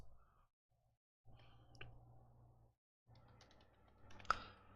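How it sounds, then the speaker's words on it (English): Quiet typing on a computer keyboard comes in short bursts of soft clicks separated by silent pauses, with one sharper key strike near the end. "I'm typing on another one though."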